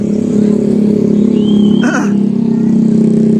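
Motorcycles travel a city road at night in Manila, heading toward Divisoria, giving a steady engine drone with one brief louder pass around the middle, blended into continuous traffic noise.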